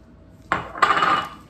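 A metal utensil clanks twice against a bowl as tuna seafood salad is mixed, two close, bright ringing knocks with a short resonant tail.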